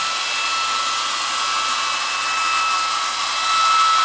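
A loud, steady whooshing blower hum, a heat gun pushing hot air continuously onto a drum head to seat it, rising slightly toward the end.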